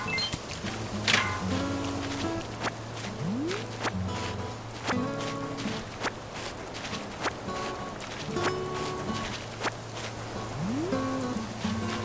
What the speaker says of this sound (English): This is one of those chilly spring days where it's raining, it's windy,